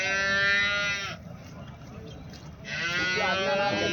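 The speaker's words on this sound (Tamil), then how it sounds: "இது ஒன்று செனை எருமை, ஒன்று வந்து கண் எருமைங்க." Buffaloes at a buffalo market low with two long, loud moos close by, separated by a brief pause, over a busy background.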